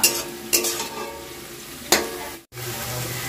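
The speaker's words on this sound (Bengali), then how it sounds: "তো এই যে এখানে হচ্ছে লাল শাক ভাজা" Red amaranth greens stir-fried in a pan at a home celebration meal, a steady sizzle broken by a few sharp spatula scrapes and clanks.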